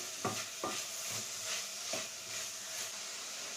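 Spatula scrapes and stirs vegetables with potato in a pan for brinji rice, several distinct scraping strokes over a steady soft sizzle, close and moderately loud with no talking.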